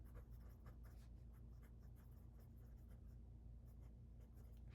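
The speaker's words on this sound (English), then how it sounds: "I'm gonna write this down so I don't forget." Pen or pencil scratching steadily across paper while notes are written by hand, with quick continuous strokes under a low steady hum and no talking.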